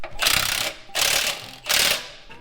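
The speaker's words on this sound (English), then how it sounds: "Torque converter spin." A torque converter is turned by hand to seat it into engagement in a vehicle transmission, heard as three rasping, ratcheting mechanical bursts of about half a second each, close up with brief pauses and no speech.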